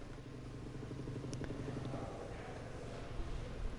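A racing video game motorcycle pulls out of the pits at Portimao, its engine a steady, close drone with a harmonic buzz that holds throughout, swelling slightly toward the end.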